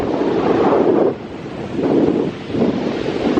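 Wind gusting across a sunny beach and blowing sand, a loud continuous roar buffeting the microphone, dipping briefly and surging again in waves.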